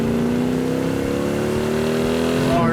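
A 1967 Hemi GTX V8 with dual quads revs up close and loud, its steady low growl rising in pitch toward the end with no talk over it.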